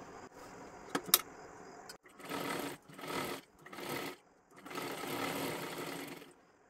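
Sewing machine stitching cut cloth for a girl's long one-piece dress, running in four bursts of rapid whirring separated by short pauses, with light clicks of handling near the start.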